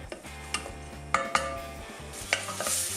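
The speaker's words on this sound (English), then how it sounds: "Add the vegetables. We can fry these off until they're softened." Small-cut vegetables fry in a pan for a chicken and mushroom soup. A steady close sizzle runs under a spoon's stirring scrapes and a few sharp clinks against the pan, with background music playing.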